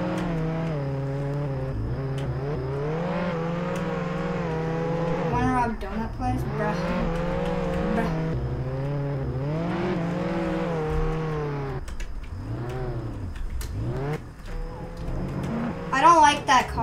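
A car engine in the Roblox Jailbreak video game revs up and down in long rising and falling sweeps, loud and steady, with voices talking over it throughout and a brief burst of noise at the end.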